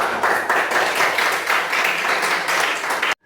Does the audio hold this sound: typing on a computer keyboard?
no